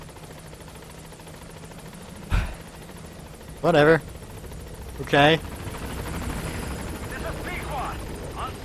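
Helicopter arriving in the video game Metal Gear Solid V: The Phantom Pain gives a steady, moderately loud whirring rotor drone throughout, with brief spoken words breaking in over it.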